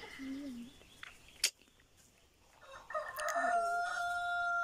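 Chickens kept at a country homestead, with a rooster crowing loudly and nearby in the second half. Softer clucks and bird calls come before it, along with a brief sharp knock.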